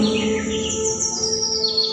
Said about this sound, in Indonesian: Kicau burung,